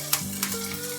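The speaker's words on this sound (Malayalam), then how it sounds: "ഇത് നന്നായി ഒന്ന് ഇളക്കി കൊടുക്കാം. കരിയാണ്ടിരിക്കാൻ വേണ്ടിയിട്ട് ഫ്ലെയിം ഞാൻ കുറച്ച് വെച്ചിട്ടുണ്ട്." Onions frying on a low flame for bread upma while being stirred, a soft continuous sizzle with two quick scraping strokes in a brief moment.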